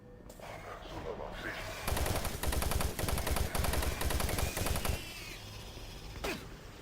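Rapid automatic gunfire in DOOM 3, a loud rattling burst of about three seconds after a quieter start, then fading into lower ambient noise with a voice present.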